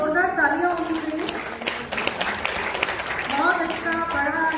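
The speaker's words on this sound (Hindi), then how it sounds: "एक सशक्त गीत के लिए जोरदार तालियां होनी चाहिए" Applause at a women poets' gathering after a patriotic poem, a bed of clapping from the hall running beneath a voice that talks over much of it, loudest in the middle.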